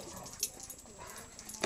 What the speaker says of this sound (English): dog crying here.